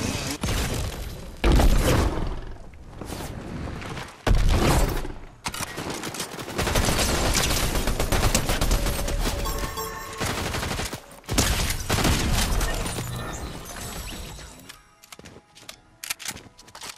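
Video game gunfire during a squad firefight: dense bursts of automatic shots and rapid volleys fill most of the stretch, loud and close, with brief pauses between exchanges.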